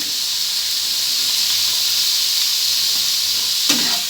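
Cauliflower curry seasoned with pav bhaji masala sautés in a pan, a loud, steady sizzling hiss with a sharp scrape of the spatula near the end.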